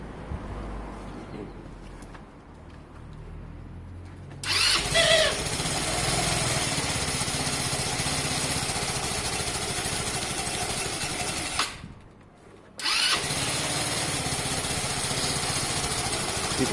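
A car engine starts and runs loud and steady, briefly cutting out and then roaring back as it is revved.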